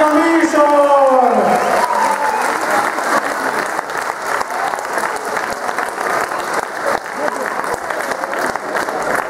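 Loud, sustained applause from an audience at a synchronized swimming team show, broad and dense for several seconds, with a voice trailing off at the very start before the clapping takes over.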